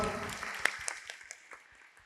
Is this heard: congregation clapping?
yes